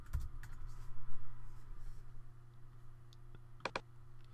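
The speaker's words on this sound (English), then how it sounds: "Then in the search box over here, I'm going to type Yoast SEO." Someone types on a computer keyboard in a quiet room, giving a few scattered key clicks followed by a quick double tap near the end, close and alone.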